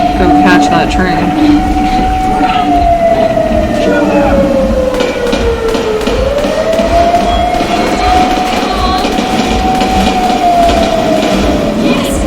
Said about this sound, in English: you better go catch that train